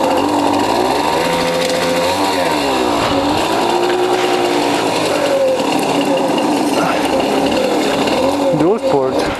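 A dual sport motorcycle engine running steadily after a kickstart on a ride in the Czech Republic, a loud, buzzing, high-revving drone with rising and falling revs throughout.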